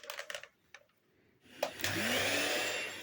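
An electric mixer whipping butter cream: after a few scattered clicks and knocks, the motor starts with a close, steady whirring buzz that holds evenly to the end.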